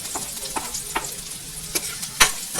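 Garlic sizzling in a pan for pork adobo, with a steady fry hiss and several sharp stirring clicks and scrapes close by.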